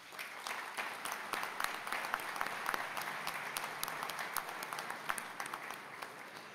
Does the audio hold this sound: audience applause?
yes